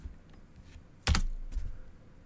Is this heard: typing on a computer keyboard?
yes